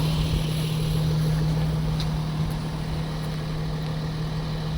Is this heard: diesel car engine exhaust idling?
yes